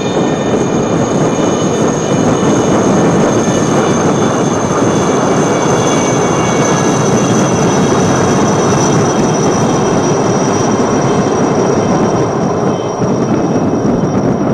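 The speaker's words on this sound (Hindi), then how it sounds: "Coming up next are 6 Chetak helicopters from the 3-1 flight in a diamond formation." Six Chetak helicopters fly past in diamond formation at a naval fleet review, a loud, steady broadband rotor and engine roar with a high whine that holds throughout, close and continuous.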